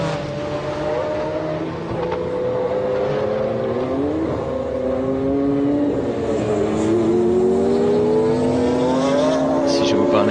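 Race cars at the 1995 24 Hours of Le Mans, including a Jaguar-engined Lister Storm, roar past with rising and falling engine tones under steady crowd and track noise while a commentator talks over them.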